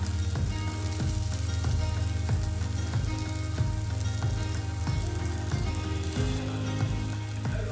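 Samosa filling masala of boiled peas, turmeric, coriander-cumin powder, red chilli, salt and garam masala sizzles steadily in a pan, with repeated stirring scrapes and taps throughout, close and continuous.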